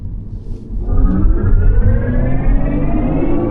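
Low rumble builds as a Tesla Model Y Juniper electric car picks up speed on a main road, a smooth rising whine layered over road noise, loud and close.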